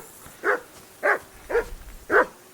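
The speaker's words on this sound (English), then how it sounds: "And he likes to bark." A dog barks in the medieval video game Kingdom Come: Deliverance II, four evenly spaced, fairly close barks over a low ambient hum.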